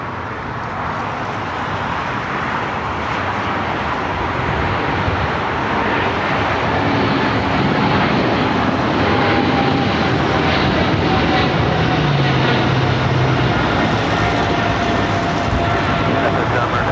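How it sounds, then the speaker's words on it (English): A Virgin Airbus A350-1000 lands at LAX, arriving from London, a loud sustained jet engine roar that slowly builds and holds, with a voice talking over it. "That's a Virgin Flight 7, the A350 1000 coming in from London"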